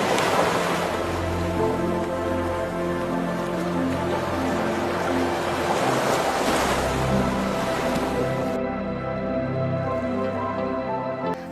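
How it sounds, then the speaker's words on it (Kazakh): Warm sea waves wash onto a clean sandy shore in a continuous soft surging rush, with a gentle tonal music bed underneath and no talking. "Жағалаудан теңіздің жып-жылы толқындары келіп, аяқтарыңызға жеңіл соғуда."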